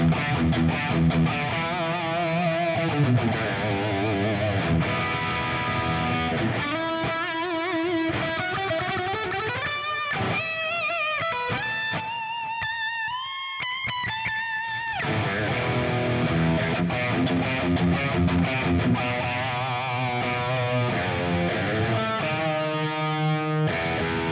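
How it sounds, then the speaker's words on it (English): Electric guitar played through heavy distortion, sustained chords and riffs ringing out with thick, saturated tone, loud and continuous. "let me flip this over to the heavier distortion"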